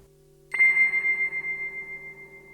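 The Music Box setting of a Coleman Electronic Field Kit effects unit sounds a single sustained bell-like tone that starts abruptly and rings on with a slow wavering shimmer, fading gently over a couple of seconds.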